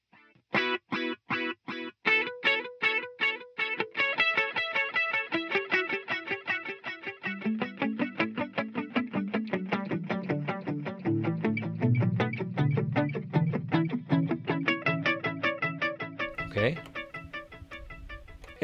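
An electric guitar played through a Digitech RP1 multi-effects processor on a sequence delay preset produces rapid, cascading repeated notes that thicken into a dense sustained tone before cutting off abruptly.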